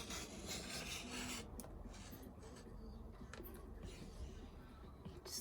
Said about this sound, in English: because I'm cutting through 2 pieces of cardstock